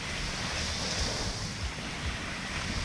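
Sea surf washing continuously onto a beach where a child swims, a steady broad roar of waves mixed with wind buffeting the microphone, no talk.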